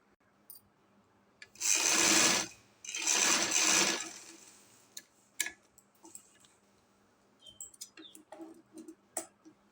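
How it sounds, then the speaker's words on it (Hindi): A sewing machine stitches a double fabric cuff in two short, close bursts of running motor and needle, each about a second long, followed by scattered light clicks and handling taps. "इधर सिलाई लगाएंगे, फिर इस साइड पे सिलाई लगाएंगे।"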